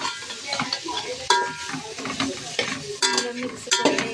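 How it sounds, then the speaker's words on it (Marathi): Carrots, green beans and potato sautéed in oil in a pan, with steady sizzling and repeated stirring scrapes, close and clear, no talking. "तेलात चांगलं भाजून घेऊया"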